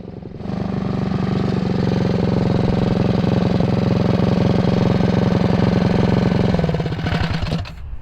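A small engine on a four-wheel-drive Power Wheels Bronco go-kart runs loud and close with a rapid, even chugging for several seconds, then breaks into irregular popping before dropping off. No backfire bang stands out clearly.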